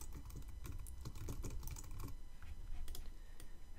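Quiet, close clicking of a computer keyboard as text is typed and edited, a run of quick irregular keystrokes with brief pauses and no speech.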